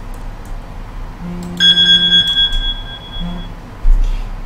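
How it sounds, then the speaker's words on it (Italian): A short electronic timer alarm rings out with a bright, steady tone from a Minecraft survival game, sounding once over quiet background game ambience, then a brief lower blip and a soft thump follow. "Questo era il timer"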